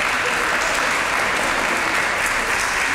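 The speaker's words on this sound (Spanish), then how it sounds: "Pueden aplaudir" A seated audience applauds continuously, a thick, even wash of many hands clapping at steady loudness throughout.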